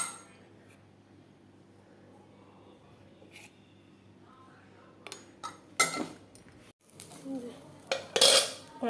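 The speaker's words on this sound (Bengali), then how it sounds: "কড়াইটা বসিয়ে দিলাম, এখন তেল দিব।" A metal kadai (wok) is set down on a home kitchen stove. Quiet room tone gives way to a few sharp clanks and metallic clatters of cookware near the end, close and moderately loud.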